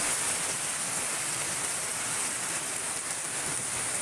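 Rain falls steadily on an afternoon in Pabna, Bangladesh: a dense, even hiss that stays constant and close for the whole stretch, with no voices.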